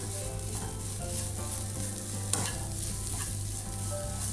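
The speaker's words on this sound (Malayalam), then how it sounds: "പച്ചമുളം മാറുന്നവരെ ഒന്ന് വഴറ്റിയെടുക്കണേ." Onions and coriander powder are sautéed in a pan for an egg perattu, making a steady, close sizzle with the scrape and rustle of stirring throughout and no speech.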